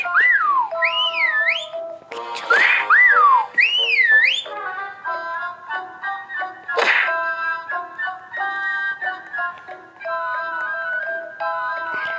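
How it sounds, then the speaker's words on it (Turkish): Bright, warbling whistles in a Roblox hide-and-seek game, sliding up and down in pitch, repeated in bursts with short melodic phrases, loud and close with brief noisy breaths between. "Arkadaşlar bayağı bir ıslık çalıyorum ki birinci olayım."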